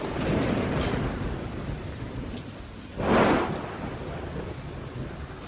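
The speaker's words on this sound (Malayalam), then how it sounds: "ഭയങ്കര മഴ, പുറത്ത്" Heavy rain pours outside in a steady hiss while thunder rumbles in the distance early on, then a louder, closer thunderclap bursts through midway before the downpour settles back to a constant patter.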